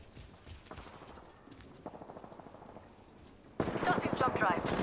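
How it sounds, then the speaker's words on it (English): Rapid gunfire in an online shooter video game, faint scattered shots at first, then a louder burst of fast automatic fire near the end, with a player's voice talking over it. "Because I hear their gunshots."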